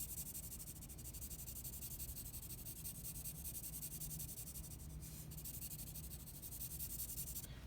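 A 4B charcoal stick scratches and rubs across paper in continuous close strokes, a steady dry grainy hiss with no talking.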